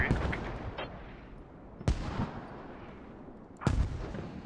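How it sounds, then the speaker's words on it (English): Mortar shells from the video game Squad crash down on a rally point, three heavy distant impacts about two seconds apart, each a sharp boom trailing into a long rolling rumble. "mortars now coming down on the rally points"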